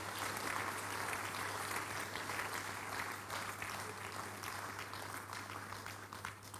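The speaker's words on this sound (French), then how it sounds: "Église, acclamez pour le Seigneur pour cette grande moisson." A church congregation at a midweek communion service applauds in steady, dense clapping that fills the room, loud and sustained, tapering slightly toward the end.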